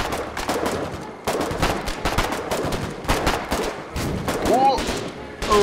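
Dense gunfire from the Foxhole video game crackles in rapid bursts of machine-gun and rifle shots, loud and close with brief gaps, over a noisy battlefield backdrop.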